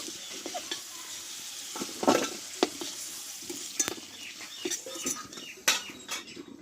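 Potatoes frying in oil in a pan while cooking a Bengali fish curry, a steady soft sizzle broken by scraping spatula strokes and occasional sharp clinks against the pan.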